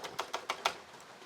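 Keys clacking on a Commodore 16 computer keyboard, five quick, fairly even keystrokes close by with a faint sixth trailing off, no voices.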